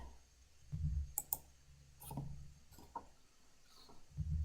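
A computer mouse clicks in a spreadsheet program, sounding as several sharp, faint clicks, some in quick pairs, spread over a few seconds against a low background hum.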